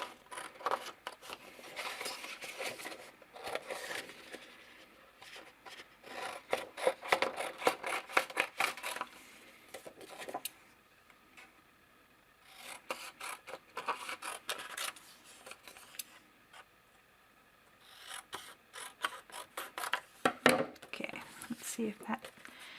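Scissors trim a paper craft piece to size in repeated bursts of crisp snipping and rustling, close by, with short pauses between cutting runs.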